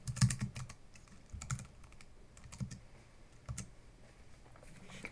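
Typing on a computer keyboard to search for a flight simulator online, a quick uneven patter of close, light key clicks in short bursts with no voices.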